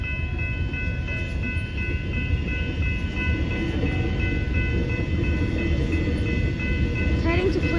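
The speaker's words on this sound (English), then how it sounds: "Here comes the train." A suburban train passes the Main Hurstbridge Road level crossing at Diamond Creek, Victoria, on the Hurstbridge line: a steady, loud rumble of wheels and carriages with constant background hum, close by and sustained throughout.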